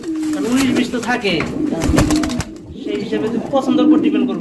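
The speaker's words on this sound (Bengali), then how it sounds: "দেখেন অনেকটা চঞ্চল কবুতর" Lahori and Sirazi pigeons at a farm coo in low, rolling phrases close by, repeated throughout, with a voice talking over them.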